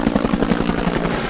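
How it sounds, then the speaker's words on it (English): An American military helicopter approaching to land in a Vietnam combat zone, its rotor thumping in a fast, steady rhythm with a continuous engine drone, close and fairly loud. "As the American chopper approaches, the enemy watches and waits."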